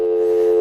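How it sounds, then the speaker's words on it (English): A steady telephone dial tone on a radio call-in line, a loud continuous hum held without break for the whole moment, alone with no voices. "That's a dial tone, so I got nothing."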